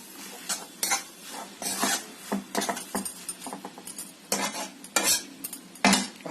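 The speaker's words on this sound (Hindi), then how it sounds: "इसके अंदर थोड़ा सा हम इलायची पाउडर डाल देते हैं, या 3 इलायची बुक करके इसके अंदर डाल देते हैं और इसे अच्छे से मिक्स कर लेते हैं" Cardamom powder is stirred into a dish in a covered pot, a series of irregular metallic scrapes and clinks of a spoon against the pot over a faint sizzle.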